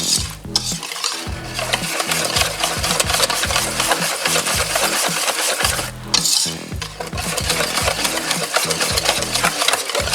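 Cornbread batter with oil whisked briskly in a bowl, a rapid rhythmic scraping and clatter that runs nearly continuously at close range with a brief pause midway.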